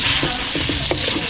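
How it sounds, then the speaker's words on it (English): A tortilla sizzles and fries in a hot pan while being stirred, with a steady close crackle broken by several short scraping strokes. "Stirring the tortilla."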